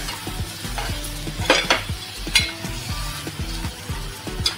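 Marinated prawns are stirred in a hot pan, with a steady loud sizzle of frying broken by a regular rhythm of spoon scrapes and clinks against the metal.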